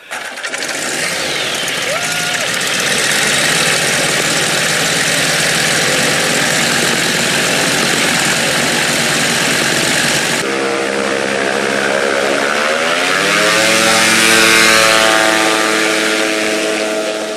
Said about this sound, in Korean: 드디어 경비행기가 과거로의 시간여행을 위해 날아오르기 시작했습니다.